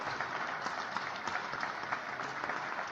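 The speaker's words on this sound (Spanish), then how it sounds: "Todo el mundo aplaudiendo." A crowd applauds in a steady, dense wash of clapping that holds at an even level throughout, heard from a slight distance with no break.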